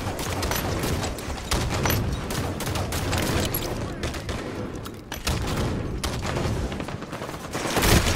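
Dense hostile gunfire rattles through a Halo 5 Slayer match, rapid automatic bursts and booming shots overlapping almost continuously at a loud, close level, with a voice calling out over the action.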